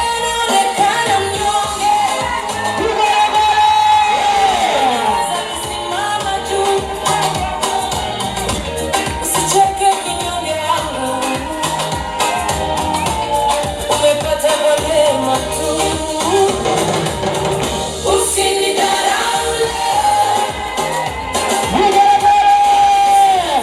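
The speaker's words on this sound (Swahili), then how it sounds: "Makofi na vigelegele kwa mtawala." A crowd at a ceremony commemorating the capture of King Zumaridi claps and ululates for the ruler, with shrill trilling calls and cheers sustained loudly for over twenty seconds over a busy background.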